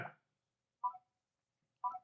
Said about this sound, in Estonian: Telefon teeb 2 piuksu